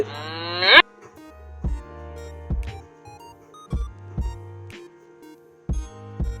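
A cow or ox gives a loud, drawn-out moo at the start, followed by several short, sharp knocks and thumps spaced unevenly, with no voices present.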